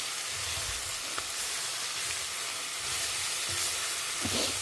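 Paneer sautéing in a pan with salt makes a continuous soft sizzle, with a few faint clinks and stirring scrapes near the end and no talking.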